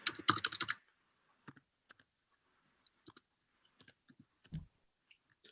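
A number typed on a computer keyboard, beginning with a quick burst of clustered key clicks, followed by sparse, isolated taps and clicks, close and quiet with no talking.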